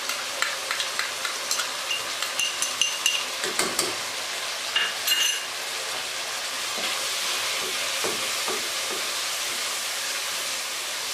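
Green chillies with ginger garlic paste frying in a pan for a chana pulao: a steady sizzle and hiss with quick stirring clatters in the first half, then continuous frying noise.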